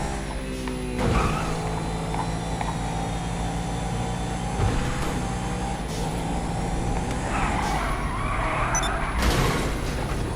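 A car engine accelerates in the video game GTA V, producing a steady, loud mechanical drone with a thin whine and occasional swells, with no talking over it.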